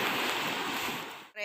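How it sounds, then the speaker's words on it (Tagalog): Strong waves of the Arabian Sea at Salalah, Oman, make a loud, close, steady wash of surf and wind for about a second and a quarter before cutting off. "Malakas ang alon."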